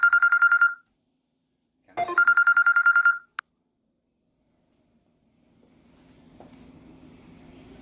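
A cell phone ringtone plays during a live breakfast cooking stream: two bursts of bright electronic beeping pulses, loud and close, separated by a pause, then quiet kitchen hum.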